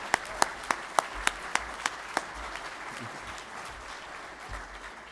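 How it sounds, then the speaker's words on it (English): At a university honors commencement ceremony, a few loud, evenly spaced claps ring out near the microphone over softer scattered applause from the audience, fading to quieter background noise after about two seconds. "You're clapping here."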